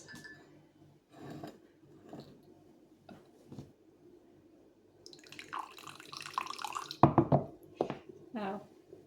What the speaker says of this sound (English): But the first challenge is to pour my coffee